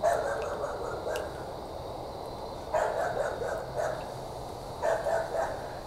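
Several dogs bark in short bursts of a few yaps at a time, somewhat distant, over steady outdoor background noise.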